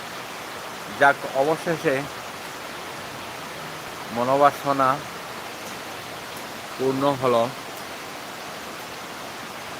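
Heavy rain falls steadily in Guwahati as a continuous, even wash of noise, with a voice talking over it in three short bursts.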